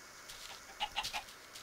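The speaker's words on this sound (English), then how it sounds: "Hello, chicken." A Minecraft chicken clucks in a jungle, three quick, soft, fairly close clucks with light ambient noise behind them.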